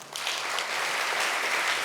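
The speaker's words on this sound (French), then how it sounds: "On peut l'applaudir, s'il vous plaît." Audience applause at a DevFest Nantes 2022 tech conference talk, a dense steady wash of clapping filling the room from start to finish, moderately loud with no voices over it.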